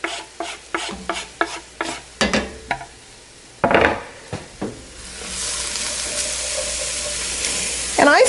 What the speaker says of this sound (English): you're going to cook these spices until they're aromatic